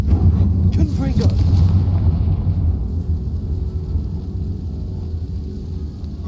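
A Confringo blasting spell erupts in Hogwarts Legacy, a deep, booming explosion that rumbles loudly up front and trails off into a low, fading roar over several seconds.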